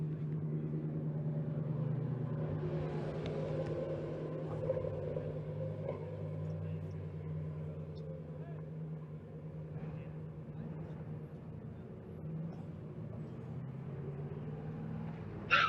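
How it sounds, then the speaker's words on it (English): A Porsche 928 race car's engine drones steadily at an endurance race at Watkins Glen, a low, continuous rumble heard from a distance over faint background voices. "Boy, that Porsche sounds good."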